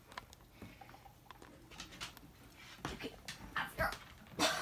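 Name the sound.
dog being led into the bathroom for a wash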